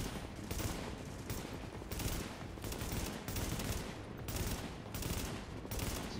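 Loud, sustained gunfire from The Division video game, with bursts of automatic weapons and heavy blasts rolling in waves without pause.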